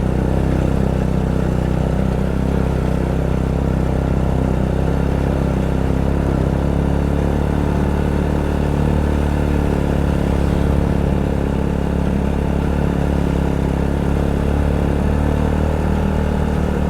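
Honda Supra X 100 motorcycle climbing uphill on a mountain road: a loud, constant engine drone under heavy rushing wind noise close to the rider, with no talk.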